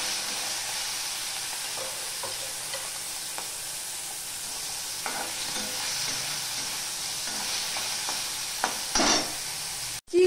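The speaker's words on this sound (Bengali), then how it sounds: "এবার এই চিংড়ি মাছগুলো আমি ভেজে নেব।" Prawns frying in hot oil in a wok for ichor-chingri, a steady loud sizzle with occasional crackles and stirring scrapes, no voices.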